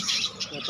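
A harsh, raspy parrot squawk, fairly close, with a voice talking over it through most of the short moment.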